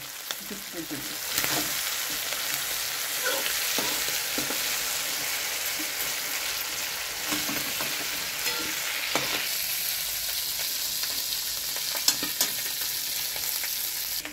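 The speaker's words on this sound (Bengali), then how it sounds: "গিলেমেটেটা একটু ভালো মতন লাল লাল করে ভাজা হয়ে গেছে।" Chicken gizzard and liver fry in a pan sprinkled with chilli powder, giving a steady, close sizzle with occasional scraping stirs, no one talking.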